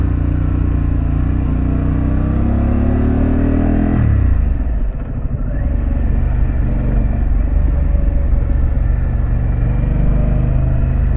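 A Harley-Davidson Pan America motorcycle's exhaust while riding: a loud, close, steady engine drone that climbs in pitch, drops sharply at a shift, then carries on rumbling continuously.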